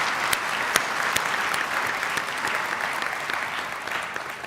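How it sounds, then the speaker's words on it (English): Steady applause from a commencement ceremony crowd, dense and continuous clapping that holds at an even level throughout with a few sharper individual claps standing out. "So a round of applause,"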